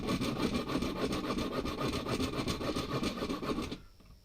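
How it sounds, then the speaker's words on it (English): A hacksaw cuts through material on an O scale model railway project, with quick, even rasping strokes close by for nearly four seconds before stopping. "now I get my hacksaw, whatever saw, this saw here, and I just cut away"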